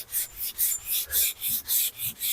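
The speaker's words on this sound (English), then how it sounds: "I kind of try to do a diamond shape when I'm sanding with such as this block with my hands" Steady hand sanding of a car hood with a sanding block, about eight rhythmic rasping strokes back and forth, close and fairly loud with no talking.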